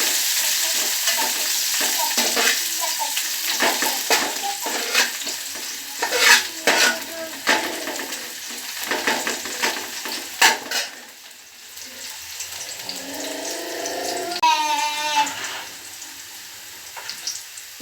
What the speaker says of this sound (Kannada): ಹಾಗೆಯೇ ಸ್ವಲ್ಪ ಫ್ರೈ ಮಾಡ್ತಾ ಇರೋಣ